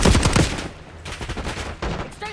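Loud bursts of gunfire in Call of Duty: Black Ops 6, several rapid volleys close by during a firefight at an enemy encampment near a SAM site, with brief gaps between bursts and a voice calling out near the end.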